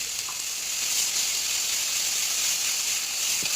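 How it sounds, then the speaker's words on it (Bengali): A spice paste with dried chilli and cumin hisses steadily in hot oil, a bright, even sizzle close by that holds for a few seconds with no voices. "দিয়ে তারপরে বাটা মশলাটা সেটা তেলের মধ্যে তেলের মধ্যে ছেড়ে দিলাম"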